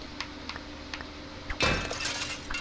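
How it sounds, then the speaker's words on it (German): Glass shattering in the video game Kill It With Fire, a few faint ticking clicks followed by a loud crashing break and a scattering tail of glass fragments. "Ja, mach da das Glas kaputt."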